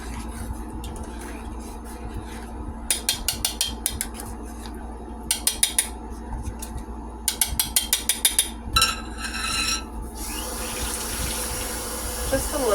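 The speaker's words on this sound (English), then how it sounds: "Just wondering if I should add a little bit of water. Yeah, I'm going to." Water runs from a tap and is poured into a pot of cooking chicken, a steady stream with bursts of splashing and clattering between pauses in a kitchen.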